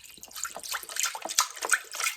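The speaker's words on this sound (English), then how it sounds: "Now I'm going to pour in the rest of what was in my chicken broth" Chicken broth poured from a carton into a pot, a continuous splashing liquid stream with small glugs, close and fairly loud, running alone for about two seconds.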